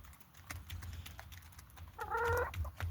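Chickens cluck softly and scratch while eating poultry feed on a small farm, with one brief, clear cluck standing out from faint pecking sounds.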